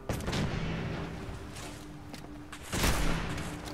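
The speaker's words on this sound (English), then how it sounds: "No, using explosive hunting rifle actually" Explosive hunting rifle rounds go off in Fallout 4: two loud, booming blasts a few seconds apart, each trailing into a rumbling decay over faint background noise.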